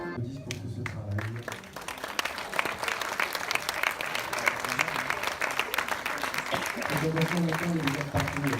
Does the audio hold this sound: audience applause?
yes